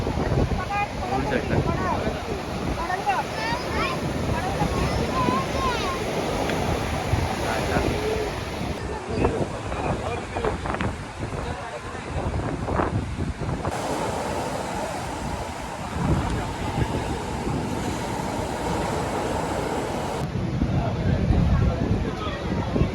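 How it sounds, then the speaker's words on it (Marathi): Sea waves washing on the beach at Ganpatipule on the Konkan coast, a continuous roaring surf with gusts of wind on the microphone, and people talking intermittently. "खूप सुंदर असा समुद्र आहे"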